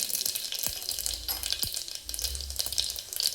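Mustard seeds and cumin sizzle and crackle in about two tablespoons of hot oil in a home kitchen pan, a close, steady frying hiss with small pops and a few stirring knocks, no voices.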